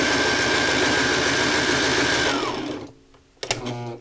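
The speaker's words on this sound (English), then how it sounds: "Now it's feeding through there very smoothly" A Sailrite Ultrafeed LS sewing machine runs loud and steady as it stitches cording, a fast, even mechanical whir that winds down and stops near the end, followed by a couple of brief clunks.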